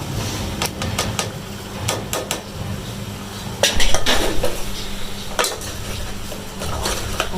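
Lentils go into roasted masala in a kitchen pan with a series of close metallic clinks and scrapes of a spoon against the pan over a steady low hum, no voices.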